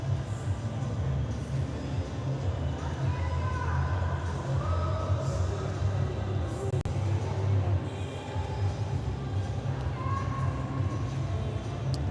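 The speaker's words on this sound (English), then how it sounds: "You can hear the crowd worrying her on" A crowd at a swimming grand prix finals in Durban roars steadily in a large echoing pool hall, a continuous rumbling cheer for a swimmer with a commentator's voice faintly heard over it.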